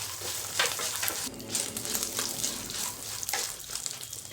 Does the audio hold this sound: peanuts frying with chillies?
yes